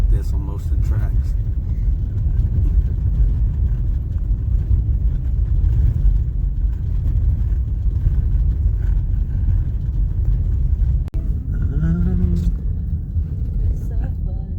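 A car rolls over a lumpy, snow-covered road, giving a steady loud low rumble of tires and engine with a brief knock partway through; voices talk over it near the end.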